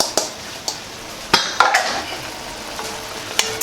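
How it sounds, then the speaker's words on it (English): Unrinsed long grain rice stirred with a wooden spoon in a Le Creuset pan, giving a few sharp knocks and scrapes against the pot over a low sizzle, close and fairly loud with quiet gaps between strokes. "Give that a gentle stir so the rice doesn't go flying everywhere"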